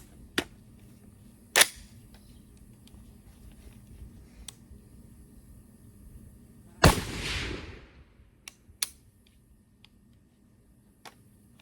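Single sharp shots from a PSA Gen 3 AR-10 rifle in .308 at a range. The shots come at irregular intervals with quiet gaps between them, and one louder blast has a longer ringing tail, consistent with the rifle failing to load the next round.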